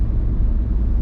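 A car drives on back roads between Gatlinburg and Pigeon Forge, heard from inside as a loud, steady low engine and road rumble with no break.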